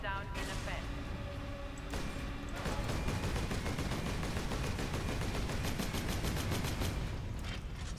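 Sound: sentry gun turrets firing in Warhammer 40k Space Marine video game

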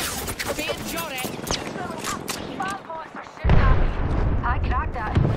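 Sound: gunfire in a video game

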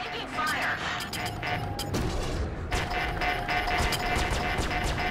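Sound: incoming gunfire in the video game Star Citizen

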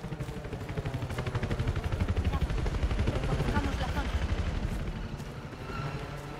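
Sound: helicopter arriving amid gunfire in video game Battlefield 4

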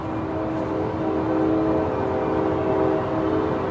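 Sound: passing train with horn

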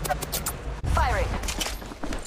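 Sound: gunfire in the video game Apex Legends Mobile

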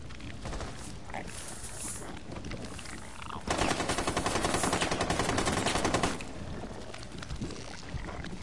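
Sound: gunfire attacking an objective in a video game

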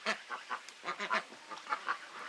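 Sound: duck quacking

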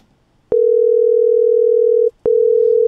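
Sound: synthesized telephone ringback tone, 440 and 480 Hz

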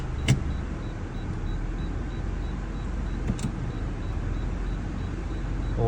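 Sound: Honda car engine idling on LPG

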